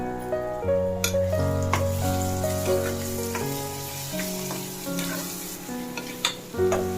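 Onions sizzle steadily in a pan with turmeric and salt, a soft continuous frying hiss running under louder background music for the whole stretch.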